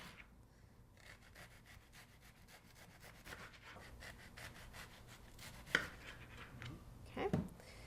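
Knife slicing an onion into thin pieces on a cutting board, a steady rasping saw-like rhythm of quiet strokes with a couple of louder thuds near the end, no talking.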